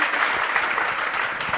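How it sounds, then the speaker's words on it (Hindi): Loud, dense applause from an audience at a Hindi motivational talk with a BPSC exam topper, continuous clapping throughout with no voices heard. "तो एक बार सुना के लिए जोरदार ताली"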